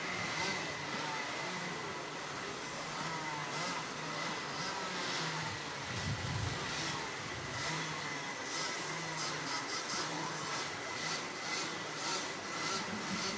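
Vortex Mini ROK kart engines warming up on track before a pre-final race, a steady buzzing drone of several small two-stroke engines heard from a distance, continuous without pauses.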